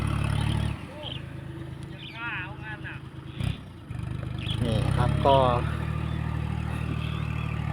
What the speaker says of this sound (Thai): เอารถไถปั่น